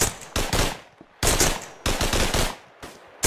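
Rapid bursts of gunfire crack out in Hell Let Loose, sharp loud volleys in several clusters with brief pauses between them, close and dominant with no voices.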